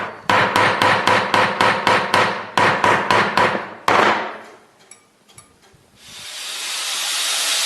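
A hammer strikes metal while forging a khomus jaw harp: about a dozen sharp, ringing blows in two quick rhythmic runs, close and loud, followed by a rising steady hiss.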